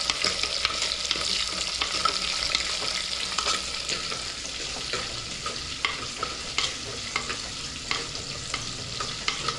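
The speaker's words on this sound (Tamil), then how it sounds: "நல்லா எண்ணெயிலேயே வெங்காயம் நல்லா வேகும்" Onions fry in oil in a pan for a garlic kuzhambu, giving a steady close sizzle that runs throughout, with regular light scrapes from stirring and no voices.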